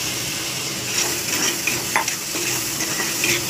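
Cucumber pickle cooks in a pan for Nepali-style kakro achaar, sizzling loudly and continuously while a spoon scrapes and stirs with occasional light taps.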